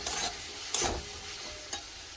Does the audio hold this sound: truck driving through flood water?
no